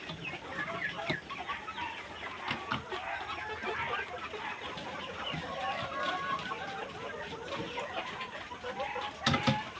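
Chickens clucking steadily at a home poultry farm, a dense chorus of fowl calls filling the space with a few louder close cackles and a sharp burst near the end.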